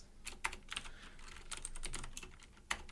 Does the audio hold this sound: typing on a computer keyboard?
yes